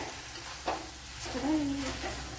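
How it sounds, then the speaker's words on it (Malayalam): Snake gourd and onion sautéing in a pan for Kerala dried shrimp powder curry, with the shrimp powder tipped in: a steady close sizzle with a soft stirring scrape, no talking. "കൊഞ്ചുപൊടി ഇട്ട് കൊടുക്കുക."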